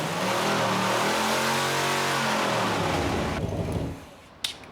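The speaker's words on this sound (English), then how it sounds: "The engine sounds great." A car engine revs up and down loudly at close range after mothballs are added to its fuel tank, the pitch rising and falling before cutting off into a quieter tail with a brief click.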